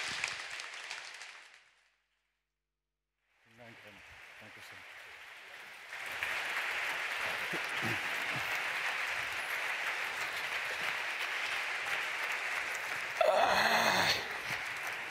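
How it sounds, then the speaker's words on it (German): Studio audience at a German political talk show applauds as three guests arrive, a broad steady wash of clapping after a brief silence, lasting about nine seconds, with greetings spoken over it near the end. "Begrüßen wir die drei Matadoren jetzt mit einem herzlichen Applaus."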